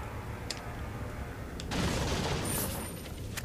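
Gunfire in the video game Resident Evil 4, with a couple of sharp reports followed by a burst of heavier blasts over a low, dense game background.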